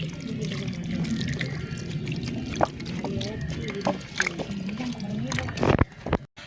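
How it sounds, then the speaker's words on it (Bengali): A peeled radish is rinsed under running water, with a steady splashing trickle and faint handling clatter, and a few louder knocks and splashes near the end. "ভালো করে ধুয়ে নিই।"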